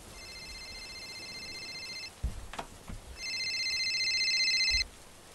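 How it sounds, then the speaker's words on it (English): Video game telephone ringing, two bursts of a bright electronic ring separated by a short pause with a couple of clicks, the second burst louder and longer. "just go refuse the phone call real quick"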